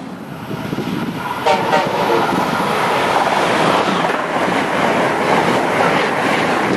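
Freight train Q370 rolls past nearby, a loud, continuous rumble and wheel clatter with a horn sounding early on, filling the whole stretch without letup.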